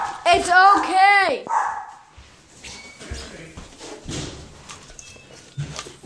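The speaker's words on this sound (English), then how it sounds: "because the dogs were barking" Several dogs barking at home, a few loud close barks at the start that give way to quieter household shuffling and faint movement.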